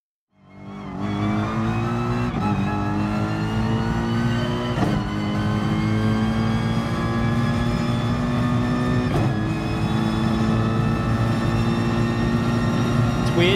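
An unrestricted Mercedes race car in Gran Turismo Sport accelerates after a rising start, its loud engine note climbing steadily through the gears with brief dips at each shift, sustained to the end.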